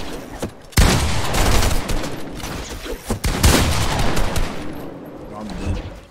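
Rapid bursts of gunfire ring out in a Fortnite 1v1 match, loud and close, clustered around a few heavy volleys, with players talking excitedly over the shooting.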